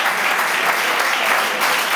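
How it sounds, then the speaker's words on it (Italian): Loud, dense audience applause at an Italian talk on the Internet of Things, a continuous wash of clapping heard up close with no voices over it. "un bel applauso per il Cercolucci"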